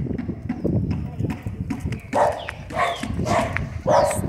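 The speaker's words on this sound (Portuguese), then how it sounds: "O cachorro já, acho que já sente o cheiro dela e já fica latindo." A dog on a walk barks in a few sharp, separate bursts at another dog, close and fairly loud, with a person talking in between.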